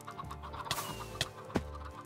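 Chickens clucking in the video game Minecraft. A few short, faint clucks are scattered over a low background hum, with no talk.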